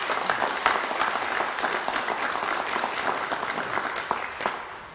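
An audience at a Wisconsin gubernatorial campaign news conference applauds a Farm Bureau endorsement of Scott Walker, a dense burst of clapping from a room of people. It holds steady and close, fading slightly at the end.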